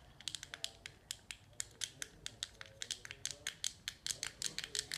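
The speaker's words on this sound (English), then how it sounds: "They make a cool clicking noise, like a pen clicking noise, you know. And you can just press it." Rapid, irregular plastic clicks from a press-style fidget toy being pushed again and again, close and crisp, a steady run of sharp snaps with no talking.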